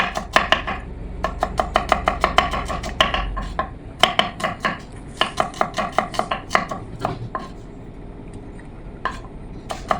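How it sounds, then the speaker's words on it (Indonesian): A knife chops shallots on a board in quick, crisp strokes, a fast run of sharp taps, then a short pause and further steady cuts, close and clear with no talking. "Kita potong-potong bawang merahnya seperti ini."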